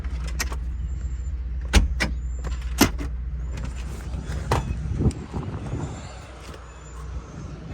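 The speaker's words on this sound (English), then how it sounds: "And then to pop the hood, trunk lid." Hood and trunk lid of a 1979 AMC Spirit AMX being popped open: several sharp metallic clunks and latch thumps spread across the stretch, close, with a faint voice between them.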